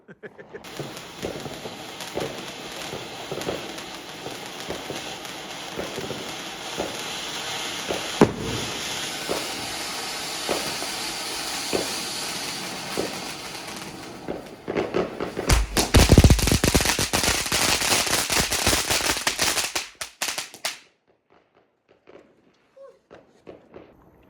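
Diwali fireworks and firecrackers on the Golden Mile in the UK, a steady run of regular popping bangs that builds into a loud, dense crackling barrage before cutting off abruptly into near silence.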